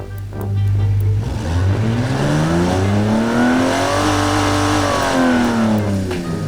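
A game-built hypercar engine using 1940s technology idles low, then revs up in a steady rising sweep and eases back down, loud and close with no talk over it.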